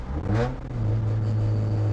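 A 1990 Mazda Miata race car with a straight-piped exhaust rumbles with a loud, low, steady drone, swelling briefly in a rev before settling into a sustained throaty tone, close by with no talking.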